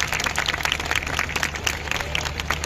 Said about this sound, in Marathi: त्या सगळ्या तुमच्या शिक्षकांना आणि शाळेलाही कृतज्ञता म्हणून आपण एकदा टाळ्या देणार आहोत